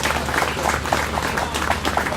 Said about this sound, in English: Let's give Paula a big round of applause